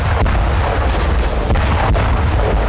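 Explosions and artillery fire from the Russia-Ukraine war around Zaporizhzhia, a loud, continuous barrage of deep booms with sharper blasts cutting through a dense, rumbling roar.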